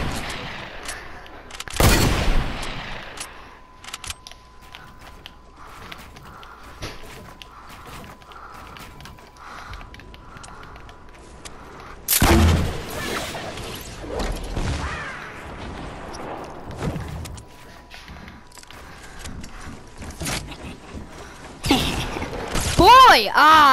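Hand cannon gunfire in a first-person shooter video game, a few loud sharp shots spaced apart amid clicking weapon mechanisms and footsteps, with a player talking over it.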